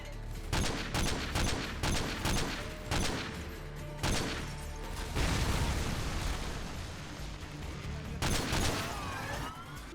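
Automated turrets fire in Modern Warfare 2 Spec Ops, rapid bursts of loud gunfire in clustered volleys with brief gaps, mixed with blasts and background combat noise.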